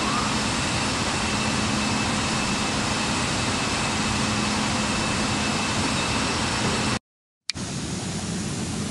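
An airplane's jet engines roar at takeoff thrust as a broad, steady, loud rush of noise, broken by a brief half-second gap near seven seconds.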